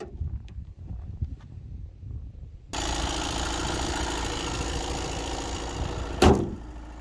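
VW Grand California camper's 2.0 TDI 177 hp diesel engine cranks and catches, then settles into a steady loud idle after a quiet start, with a brief sharp knock near the end.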